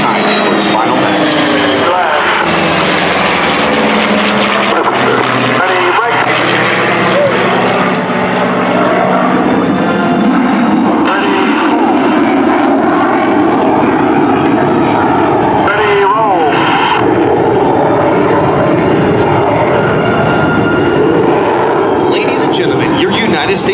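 Air Force heritage flight formation of classic and current military aircraft flying over Sun n Fun, loud sustained engine roar approaching and passing over a crowd for the whole stretch, with a commentator's voice over the PA.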